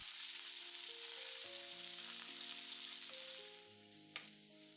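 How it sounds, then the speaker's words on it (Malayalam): Mustard seeds and coconut pieces fry in hot coconut oil for a Kerala-style chicken liver fry, giving a steady, loud sizzle that crackles throughout and eases slightly near the end, with a faint tonal hum beneath. "2 ടേബിൾ സ്പൂൺ വെളിച്ചെണ്ണ ഒഴിച്ച് 1/2 ടീസ്പൂൺ കടുകിട്ട് പൊട്ടിക്കുക. പിന്നെ കുറച്ച് തേങ്ങാക്കൊത്തിട്ട് അല്പം മൂപ്പിച്ച ശേഷം"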